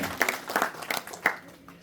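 Scattered hand claps from an audience welcoming a guru on stage at a science exhibition prize distribution, a few sharp bursts rather than full thunderous applause, fading out over a couple of seconds.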